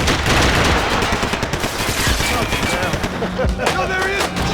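Gunfire in Max Payne 3: rapid, dense bursts of automatic shots crackle continuously and loudly at close range, mixed with heavier booming reports and brief shouting voices.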